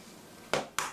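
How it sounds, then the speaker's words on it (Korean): An egg tapped against a dish in a home kitchen while making steamed egg custard, two sharp, close clicks about a quarter second apart against quiet room tone. "달걀은 먼저 톡톡해서 다른 접시에 깨서 싱싱한가 확인하고"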